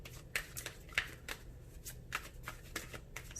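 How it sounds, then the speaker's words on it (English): Romance Angels love oracle cards being shuffled by hand, a quick series of crisp riffling flutters and soft slaps repeating close up, with no voices over them. "Let me pull some love oracle cards, okay?"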